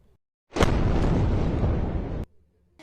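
A single long, loud explosion from the bombardment of Gaza, heard as a sudden deep roaring blast that holds for over a second and a half and then cuts off sharply, with no voices.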